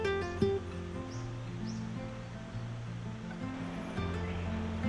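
A river flows through a quiet wooded area in Misato, Kumamoto, in winter, making a steady, soft rush with a few faint bird chirps and sustained musical tones underneath.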